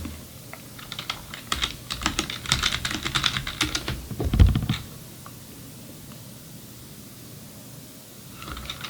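Fingers type a command on a computer keyboard in a quick burst of close, crisp key clicks, finished by a firmer thump like the Enter key, then a quiet pause before faint tapping resumes.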